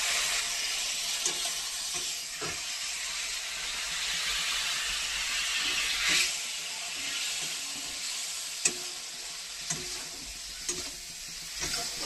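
A small splash of water hits a hot cooking pan, setting off a loud, steady hissing sizzle and steam that persists, with a few light utensil taps scattered throughout.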